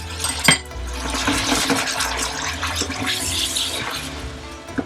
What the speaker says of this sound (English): Comes the rice wine vinegar or sherry.